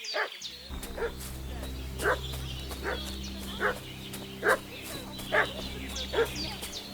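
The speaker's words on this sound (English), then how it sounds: "What's that dog making such a fuss about?" A dog in Kingdom Come: Deliverance II barks repeatedly at a steady pace of roughly one bark per second, moderately distant over a low ambient hum.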